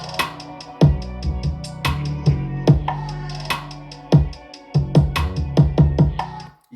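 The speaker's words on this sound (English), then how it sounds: "And with a tape plugin, Studer sound like this." A produced beat mix run through a Universal Audio Studer A800 tape emulation plugin, punchy drum hits with kick and hi-hats over a sustained bass and melodic layer, close and steady with no voices.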